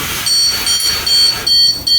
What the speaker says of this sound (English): then it starts beeping, letting you know that you actually calibrated on top of a stud